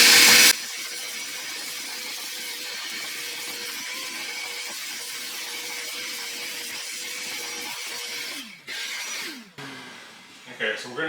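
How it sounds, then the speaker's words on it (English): A vacuum cleaner runs steadily up close while cleaning an interior area of a 2003-2008 Toyota Corolla before a fuel pump cover is removed, a continuous whine with brief changes in pitch toward the end. "So what we're gonna do now is kind of vacuum this area up real quick,"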